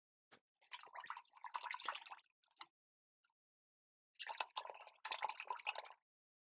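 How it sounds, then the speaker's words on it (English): A paint brush is swished and rinsed in a container of water, making soft splashing, dripping sounds in two separate bursts with a pause between them. No one speaks. "So with that, I need to wash my brush."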